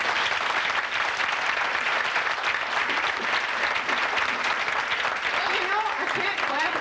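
Audience applause at an evening speaking event, dense steady clapping from a crowd filling the whole stretch, loud and close without pause.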